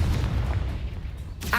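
A Confringo fire spell exploding in Hogwarts Legacy, a single deep boom that rolls and fades over about a second, followed by a brief sharper burst at the end.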